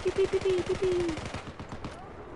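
Rapid automatic gunfire from Battlefield 4 gameplay, a fast burst of shots lasting about a second, then fading into quieter rumble and scattered sounds, with a voice speaking over the start.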